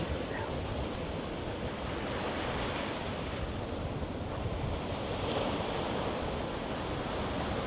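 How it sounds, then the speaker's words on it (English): Ocean surf rolls in as a steady, broadband wash with some wind across the microphone, holding constant and fairly loud throughout with no distinct breaks between waves. "As you listen to the waves"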